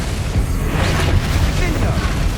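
Confringo explosive spell going off in Hogwarts Legacy, a loud rumbling blast with booming low end that sustains for a couple of seconds.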